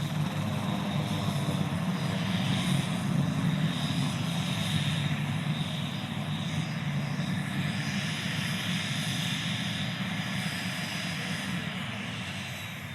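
A helicopter hovers overhead while looking for a place to land, giving off a loud, steady rotor and engine drone that runs without a break.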